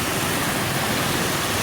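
River water swirling over rocks, a dense and loud continuous rushing close by, steady throughout with no talk.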